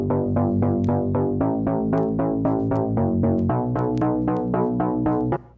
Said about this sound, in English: I'm using 80s pop bass preset here as well.